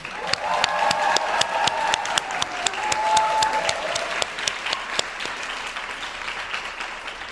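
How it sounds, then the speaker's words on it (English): Graduates at the New York School of Interior Design commencement give a sustained round of applause, dense clapping with sharp individual claps and light cheering, gradually thinning toward the end. "give an enthusiastic round of applause to their families, friends, and faculty"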